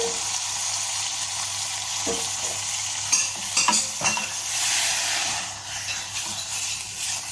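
Tomatoes dropped into a hot pan for ratatouille sizzle loudly and steadily, with a few stirring scrapes and clacks close by partway through.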